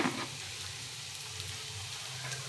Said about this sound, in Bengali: পেঁয়াজ টমেটো একসঙ্গে ভাজবো।